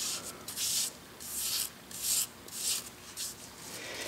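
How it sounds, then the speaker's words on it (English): A nylon brush scrubs the saddle of a South Bend 9-inch lathe in a pan of kerosene, making soft, rhythmic swishing strokes in bursts of about half a second, close and alone. "This is a nylon brush."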